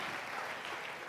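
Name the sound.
church audience applauding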